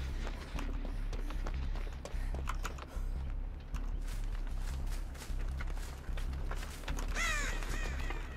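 Crows caw in Dead by Daylight, with sharp harsh calls rising toward the end over continuous running footsteps and rustling movement at close range.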